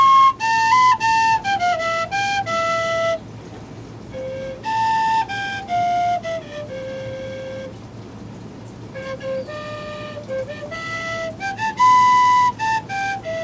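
An old tin whistle plays a lively melody of bright, clear, sustained notes with quick ornamented runs, pausing briefly between phrases, close and fairly loud over faint background hiss.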